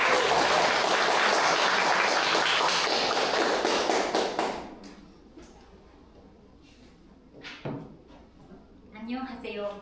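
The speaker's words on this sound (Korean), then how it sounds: "큰 박수 부탁드립니다." Dense applause from an audience at a book talk with a Japanese journalist, loud and steady for about four seconds before fading out, then scattered voices and brief rustling.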